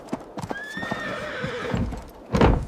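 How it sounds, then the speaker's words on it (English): Horses neigh and whinny loudly while hooves clip-clop in scattered strikes, a close sound effect with a prominent neigh in the middle and heavy hoof thuds at the end. "The stables housed the garrison's war horses, precious military assets, positioned near the gate."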